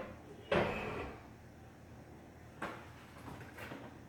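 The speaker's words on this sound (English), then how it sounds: "and close our door" A Jotul F370 woodstove door swings shut with a solid metallic clunk, followed by a couple of softer latch and handle clicks, close by in a quiet room.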